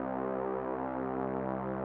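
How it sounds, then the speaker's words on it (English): A pure, unmodulated synthesizer waveform from a retro machine sample, played straight from the Kontakt wave editor, holds as one steady, harmonically rich tone for about two seconds. "Here's the pure waveform,"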